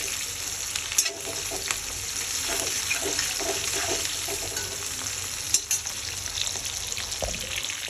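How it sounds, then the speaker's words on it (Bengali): Chicken kofta fries in a pan, giving a steady, close sizzle and crackle that runs throughout, with occasional stirring clinks and scrapes. "তো এটাকে এইভাবে এখন আমি ফ্রাই করে নেব।"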